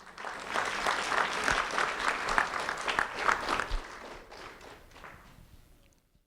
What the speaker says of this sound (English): a round of applause for Caleb